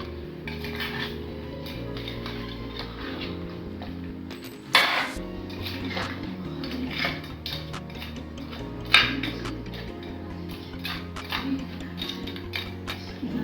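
A spoon stirs naadan crab curry in a pot, making soft scraping and a couple of sharp metallic clinks against the pot, with quiet music in the background.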